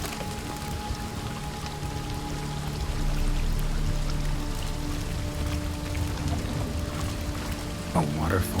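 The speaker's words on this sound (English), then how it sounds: "A waterfall flowing upwards?" Water rushes in a constant wash from a waterfall flowing upwards in the video game The Witcher 3, with an ambient drone behind it and a brief sharp sound near the end.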